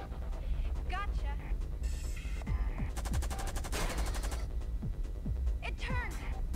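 Rapid gunfire in the video game Lifeline, fired at a lever on a mechanical arm, with a dense machine-gun-like burst in the middle over a constant low rumble and game effects.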